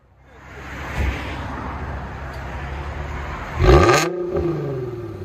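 A 2015 Infiniti Q60 with a 3.7L V6 and 4-inch exhaust tips idles with a low rumble, then is blipped into one loud, sharp rev that falls back toward idle.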